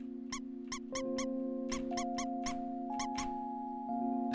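A video game gives off a quick run of sharp, high squeaks, about a dozen in irregular bursts, over a steady humming game tone with no talk.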